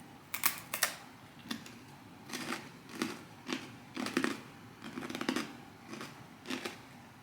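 Chunky pieces of big pretzel bitten and crunched close up, a series of sharp, loud crunches in irregular bursts with short pauses between them and no talking.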